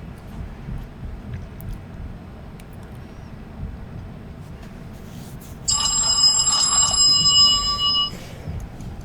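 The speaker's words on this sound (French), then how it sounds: "mon téléphone sonne" A mobile phone rings loudly for about two seconds with a bright electronic trill, rising suddenly over a steady low rumble of outdoor background noise.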